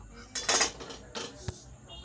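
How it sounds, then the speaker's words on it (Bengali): A spoon scrapes and clinks against a metal wok while semolina is stirred in ghee, in a few short bursts with quiet gaps between them. "আর কড়াইয়ের মধ্যে ঘি দিয়ে দিলাম, সুজি করব বলে সুজিটা একটু ঘিয়েতে নাড়াচাড়া করে নেব"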